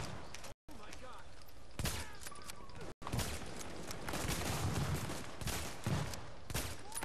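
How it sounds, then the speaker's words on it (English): Dense, crackling gunfire fills a Dark Zone firefight in The Division, a continuous barrage of overlapping shots with brief dropouts, while players talk over it. "Oh, I got shot by a sniper."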